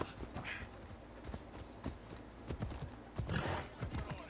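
Hooves clip-clop in a fast, steady rhythm as a horse gallops in Assassin's Creed Odyssey, close and continuous with an occasional whinny and game ambience underneath.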